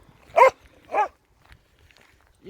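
A dog barks twice in quick succession, loud and close, during an outdoor walk along a route in Sherwood, followed by quieter scuffing footsteps and faint movement.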